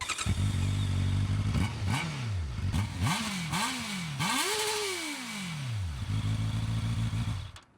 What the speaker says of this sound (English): the exhaust itself, it sounds good for a stock exhaust. I'll let you have a little listen now.